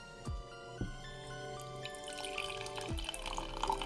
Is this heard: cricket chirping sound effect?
no